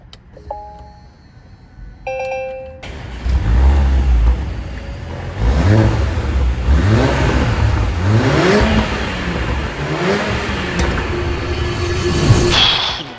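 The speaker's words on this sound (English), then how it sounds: "I did not expect a 4-cylinder to make this sound" A 2023 Porsche Macan with a four-cylinder engine making 261 bhp, first a short electronic chime, then the engine starts and revs hard in repeated rising and falling bursts, loud and close.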